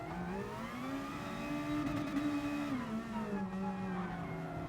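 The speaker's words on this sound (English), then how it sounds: "Right, there's cars coming now. They're on a lap." Race cars roar past in Gran Turismo Sport, their engine tones steady and loud before the pitch drops as they pass, with no talk over them.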